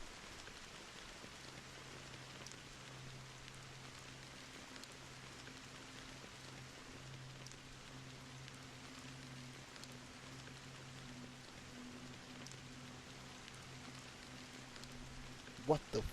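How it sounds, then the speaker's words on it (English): Rain falling in the video game Honkai Star Rail, a soft, even patter throughout under a low sustained hum. "how long has this rain been going on for?"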